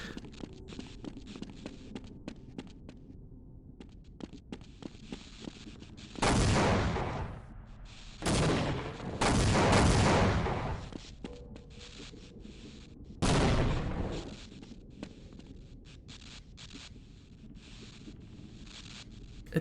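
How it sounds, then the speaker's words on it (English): A video-game explosion on a WW2 map keeps bursting in loud, roaring blasts of a second or more, repeating over crackling gunfire-like background noise, with no speech. "A little hot explosion that doesn't stop exploding?"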